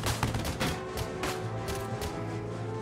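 A tank fires its machine gun in Valkyria Chronicles 4, a rapid burst of sharp cracks at the start followed by a few scattered shots over a humming background, with no voices.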